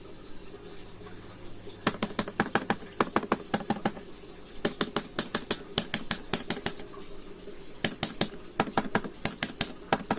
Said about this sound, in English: They're thocky and they're not clicky. Here's a sound test